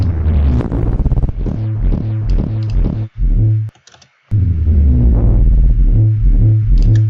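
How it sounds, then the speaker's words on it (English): A synthesizer wub bass sound built from a preset during music production, pulsing in loud rhythmic wobbling throbs, cutting out briefly in the middle before the pulsing resumes. "Like this wub is kind of cool."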